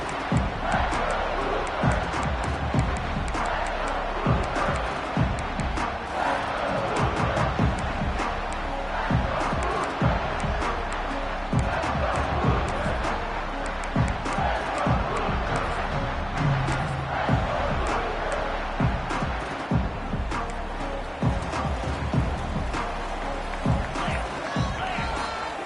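A large football stadium crowd roars and murmurs continuously through a game, a dense, steady wash of voices with scattered shouts and swells, loud and sustained throughout.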